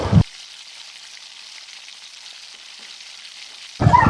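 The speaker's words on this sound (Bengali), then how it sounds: "কড়াইয়ে তেল গরম করে বড়িগুলো লাল লাল করে ভেজে একটি পাত্রে তুলে নেব" Lentil dumplings (bori) fry in hot oil in a wok with a constant soft sizzle, framed by short louder bursts of clatter at the start and end.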